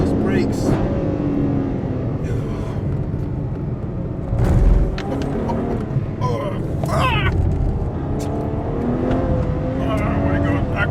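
A Ferrari 812 Superfast V12 roars loudly throughout a hot lap at Silverstone, heard from inside the cabin with steady engine drone, shifts and surges, while a passenger's voice shouts and talks over it.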